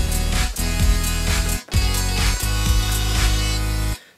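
Synth lead triggered from a Novation Launchpad S, playing bright sustained chord-like notes in rhythmic phrases with short gaps, loud and alone without any talking.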